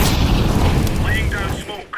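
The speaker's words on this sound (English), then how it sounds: "Throw in a flashbang!" A flashbang grenade bursts in a Counter-Strike match at the PGL Major Krakow 2017, a loud deep boom with a rumbling tail, while a voice speaks briefly over it.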